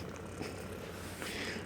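A cat purrs softly and steadily up close, a low continuous rumble with no other sounds.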